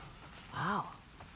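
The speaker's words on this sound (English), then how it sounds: "Wow, that's a lot of sheep." A single short sheep bleat from The Last of Us Part 2 video game rises and falls once, faint over quiet background noise.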